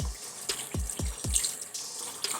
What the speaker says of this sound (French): On se lave bien les mains